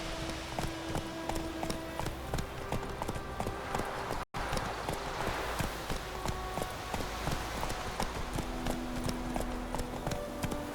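Roach the horse gallops in The Witcher 3, with steady rhythmic hoofbeats on ground under a game music score, and a brief dropout partway through.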